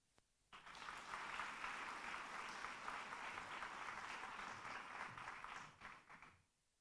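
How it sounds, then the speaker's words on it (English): Audience applause at the Global Data Festival 2026 conference swells quickly into a dense, sustained round of clapping from a large crowd, then tapers off and stops. "Ms. Jana, rounds of applause"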